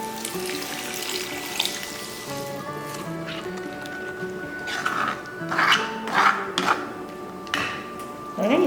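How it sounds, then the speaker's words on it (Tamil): Water runs and splashes into a cooking pan while tamarind curry with fenugreek greens is made, a steady pouring flow that swells into louder bursts of splashing near the end, with no one talking. "இப்போ தேவையான அளவுக்கு தண்ணி ஊற்றிக்கலாம்"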